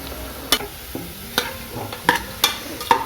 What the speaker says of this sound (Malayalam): സവോള മൂപ്പായി വരുമ്പം അതിൻ്റെ കൂടെ ഒരല്പം കറിവേപ്പിലയും കൂടി ഇട്ട് വറുത്ത് കോരണേ.